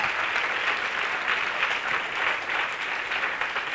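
Steady applause from an audience at a spiritual discourse on the Atmasiddhi Shastra, with dense clapping holding at an even level throughout and no voices over it.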